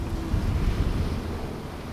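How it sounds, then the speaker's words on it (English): A big ocean wave breaks beside a sailboat crossing the Atlantic: a steady, loud rushing wash of water mixed with blustery wind noise across the microphone, continuous and close, with no voices. "Oh, big wave too."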